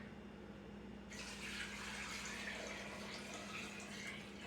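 About eight cups of water pour into a soup pot in a kitchen, a steady broadband gushing that starts abruptly and keeps flowing evenly at close range, with no voices.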